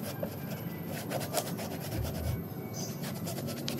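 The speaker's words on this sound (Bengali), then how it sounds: "এবার একটা টিস্যু পেপার নেব, এরকম একটা টিস্যু পেপার নিয়ে ভালো করে কষে কষে পরিষ্কার করবো একদম" Tissue paper rubs briskly back and forth over an induction cooktop surface, making a close, dry scrubbing sound in repeated strokes.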